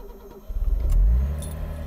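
A 1960s Mercedes-Benz 230 SL Pagoda W113 started with a key: a short cranking whir, then the engine catches with a loud low rumble that swells and settles into a steady idle close by.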